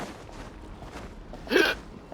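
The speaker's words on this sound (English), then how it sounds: "Oh my goodness, hiccups." A single hiccup from a character in Genshin Impact, set in Sumeru, comes as one short, fairly loud burst standing out near the end of an otherwise quiet stretch.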